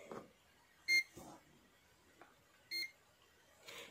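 A multimeter set to diode mode while checking a bridge rectifier in a switch mode power supply gives short electronic beeps, two distinct tones about two seconds apart, with faint handling clicks and rustles between them.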